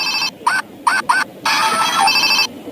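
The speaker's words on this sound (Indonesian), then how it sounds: "ini telepon Hello Kitty" A Hello Kitty toy telephone rings loudly and close with short electronic bursts, three quick beeps followed by a longer sustained ring over steady background hiss.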